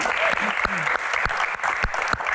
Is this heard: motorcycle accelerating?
no